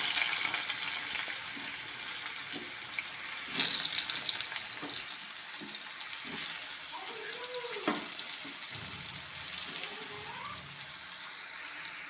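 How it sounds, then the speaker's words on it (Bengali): Chunks of raw jackfruit sizzle in hot oil with a steady crackling hiss, broken by occasional louder spits and faint scraping and clinks of a utensil. "তেল গরম হয়ে আসলে এঁচোড়গুলোকে ভেজে নেব।"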